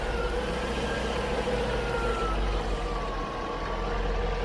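A Jaguar XJ8 V8 engine runs in a steady, close rumble with a constant low drone and faint whine, with no speech over it.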